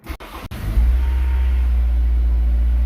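A 2005 Honda S2000 engine cranks briefly and catches after a starter replacement, then settles into a steady, loud, close idle with no whine.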